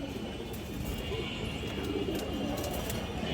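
Pigeons at a farm coo in low, dense, overlapping murmurs, a steady flock sound close by with no clear talking.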